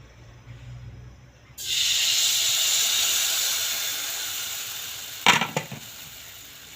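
Pitha batter hits a hot, oil-wiped pan and sets off a sudden loud sizzle that holds steadily and fades slightly. A short metallic clatter comes near the end.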